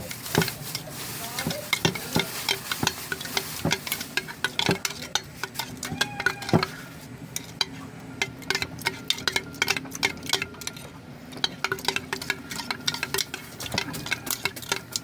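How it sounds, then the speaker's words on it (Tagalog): An avocado and graham dessert mixture with added sugar is stirred in a bowl, giving a steady run of soft scraping and clicking strokes close by, with a few brighter knocks against the bowl along the way. "Haluin natin."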